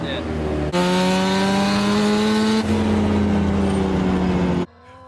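A turbocharged 400-kilowatt car runs at the Chrome NZ 2025 track day. The engine is loud and close, its revs climbing through a gear change before cutting off abruptly.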